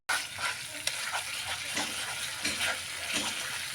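Turmeric, cumin and coriander spice paste with a little water sizzling in a pan for Bengali katla fish kalia, a close, continuous hissing fry with soft stirring scrapes.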